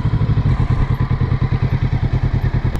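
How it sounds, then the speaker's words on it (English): A Kawasaki Z650 RS motorcycle moves at slow speed, its engine thumping close and loud in a steady, rapid, even pulse without talk. "I always like to sort of do some maneuverability at short distance, just to see how nimble or manageable the bike is at a sort of slow speed."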